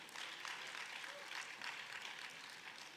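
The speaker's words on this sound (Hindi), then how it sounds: "आपसे अनुरोध है कि जोरदार तालियों से उत्साहवर्धन करें।" Audience applause at a university convocation in Bhopal, a steady wash of many hands clapping at a distance, sustained and even without breaks.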